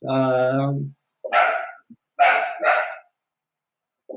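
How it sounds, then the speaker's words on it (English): A dog barks a few times, muffled and somewhat distant in the background, while a person makes a short hesitant vocal sound during a casual online chat. "oh, that's my dog."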